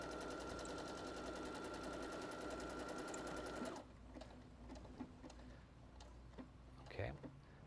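A Brother Innov-is NS80e sewing machine rapidly stitches a reinforcing stitch with a fast, steady ticking hum that stops after about four seconds, followed by quieter handling sounds.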